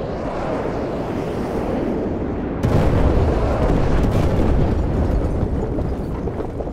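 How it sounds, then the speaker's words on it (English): An artillery strike in Call of Duty MW2 Remastered brings a heavy, continuous rumble of explosions that suddenly grows louder and denser midway, then stays booming and roaring with no talk. "Laser designated and call in artillery on those vehicles."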